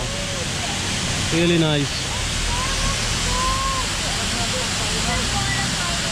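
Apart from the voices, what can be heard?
Khorfakkan waterfall flowing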